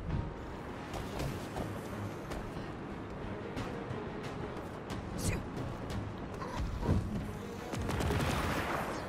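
Turret gunfire in the Marvel's Avengers video game: a steady, dense barrage of distant shots and impacts rumbling across the whole stretch, with louder bursts near the end.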